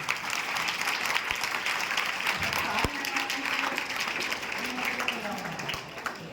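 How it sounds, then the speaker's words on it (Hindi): Audience applause at a Diwali festival gathering of students and teachers, a sustained wash of many hands clapping with voices talking over it. "थोड़ी ताली बजा दो"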